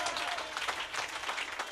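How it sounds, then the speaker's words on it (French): A church congregation claps in a dense, even wash of applause that holds steady through the short stretch, with a voice briefly audible at the start. "Donnez-lui une main d'acclamation."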